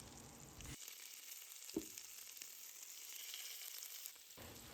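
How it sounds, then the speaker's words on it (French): Salmon pieces laid skin-side down in hot oil and butter sizzle steadily, a soft hissing fry that sharpens as the fish goes in, with a light tap partway, fairly quiet and close. "Quand votre huile et votre beurre sont chauds, ajoutez votre saumon côté peau."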